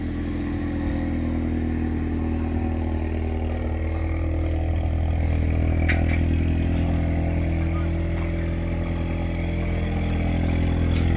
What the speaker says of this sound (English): Hear that nice rumble to it.